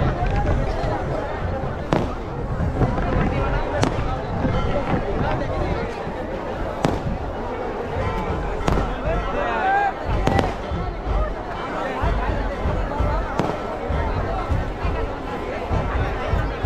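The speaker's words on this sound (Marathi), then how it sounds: "मग फटाके पण फुटा लागले जाम." Firecrackers burst repeatedly during a temple palanquin procession at the Vajreshwari fair, sharp loud cracks popping every second or two over dense crowd noise and festive music.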